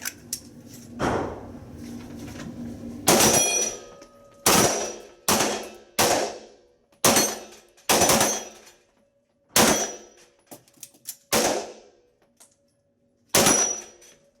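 Sharp, loud gunshots fired in a shooting competition ring out one after another, about ten reports at irregular intervals, each with a brief ringing decay, with no talk over them.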